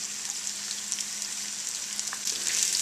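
Onions caramelize on high stovetop heat, crackling in a bright, continuous sizzle with small pops, the frying swelling a little louder toward the end.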